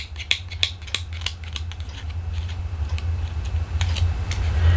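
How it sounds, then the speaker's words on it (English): Adhesive tape having its backing peeled off while making a paper-petal ornament, a quick series of sharp crackling ticks and snaps close up, then a steady low hum beneath, no talking. "Then we're going to tear the tearing tape off,"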